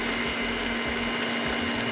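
An electric hand mixer whirs steadily while beating dough for Greek koulourakia cookies, giving a continuous close motor drone with a constant hum and no breaks.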